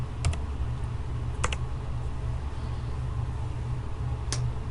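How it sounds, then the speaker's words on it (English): Computer keyboard keys tap in a few sparse, quick clusters over a steady fan-like background hum, close and fairly quiet. "in the BIM Object search window I want to type in Conair 1620"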